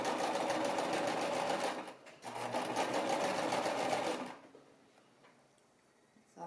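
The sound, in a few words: sewing machine stitching a baby romper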